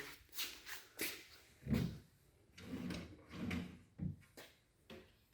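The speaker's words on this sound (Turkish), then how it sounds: "Hemen kapaklarını çekmecesini açıp tekrar bir son şey olarak geriden gösterelim." Doors and a drawer of a freshly assembled Modilayn ARD107 two-door, single-drawer cupboard are opened one after another, giving a run of soft wooden knocks, slides and thumps, quiet and close in a still room.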